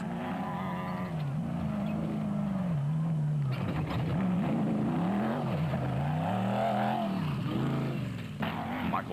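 A Regent Racing Bat race car with a 5.7-litre Corvette engine passes during a race, its loud, wavering engine note rising and falling as it goes by, with a brief tire squeal or skid.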